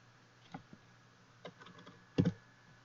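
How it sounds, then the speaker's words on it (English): A few sparse keystrokes on a computer keyboard as a city name is typed into a search field, quiet isolated taps ending in a louder double click, with no talking. "So we'll just type in Denver."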